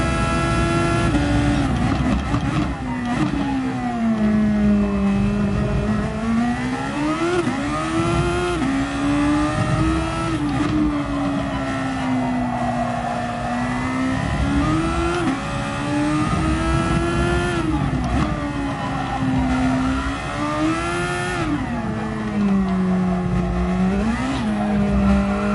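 Race car in a racing game, the DGT Thor, at full throttle with the engine revving up and down in waves and tires squealing through corners, loud and continuous with no talk.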